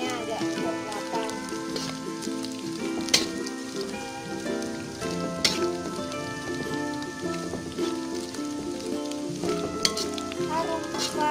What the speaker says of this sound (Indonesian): Kita goreng hingga warnanya agak kecoklatan.